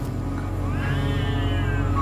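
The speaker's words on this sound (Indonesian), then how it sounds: "Suara kucing siapa sih? Berisik banget malam gini." At night, a cat lets out one drawn-out meow that rises and then falls, heard over a steady low rumble.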